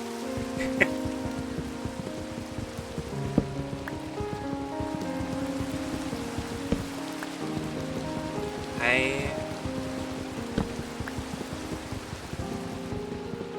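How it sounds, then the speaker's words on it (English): Rain falls steadily in Minecraft, a continuous broadband patter under game music that carries on through the whole stretch with a few louder drips. "And the rain's great."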